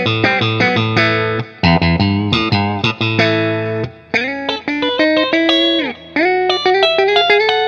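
A single-cut Les Paul-style electric guitar in the middle pickup position with the boost switch off plays loud, close chords and melodic lines with chorus and effects coloring, ringing notes separated by brief pauses, alone.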